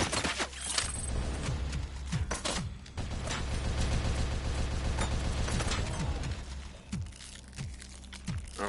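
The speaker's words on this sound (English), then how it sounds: "Who the fuck is shooting me?" Rapid mechanical gunfire in the video game RoboCop: Unfinished Business, a dense clattering stream of shots with sharp louder bursts near the start and end, no one talking.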